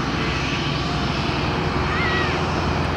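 A fixed-wing airliner approaching to land on runway 03 at Lisbon airport, its engines producing a steady, continuous broadband roar at moderate distance for the whole span.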